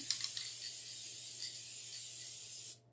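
A steady hiss of an aerosol spray can coating a craft ice cream cone, running continuously for a few seconds, close up, then cutting off.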